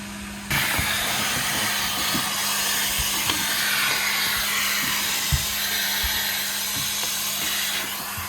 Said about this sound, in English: the next step is actually to vacuum the coils